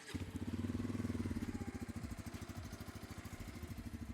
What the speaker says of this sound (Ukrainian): Виходи можемо зараз зацінити, як вона звучить завести мотоцикл.